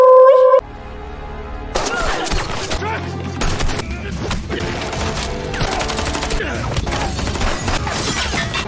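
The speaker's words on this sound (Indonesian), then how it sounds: "Oldok meninggoy karena ditembak oleh Sueb." Gunfire in the mafia film Bleed for the Past, a sudden barrage of shots and crashing impacts following a brief tone, loud and dense with voices mixed in.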